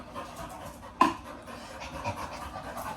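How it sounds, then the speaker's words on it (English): A dog chasing flies pants with a rapid, breathy rhythm throughout, close and clearly audible, with a sharp knock or thump near the start. "Can you hear him panting?"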